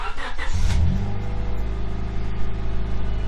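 A 1998 Honda Civic cranks briefly and catches, then settles into a steady idle, close and clear.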